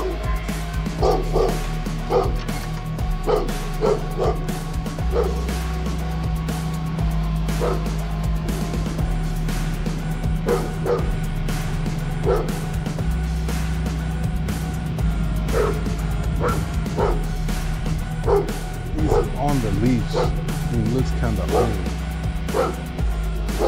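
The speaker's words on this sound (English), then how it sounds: "there's a dog right there" A dog barks repeatedly on a street during parade traffic, with sharp yips and woofs in irregular bursts over a constant engine hum from a nearby car.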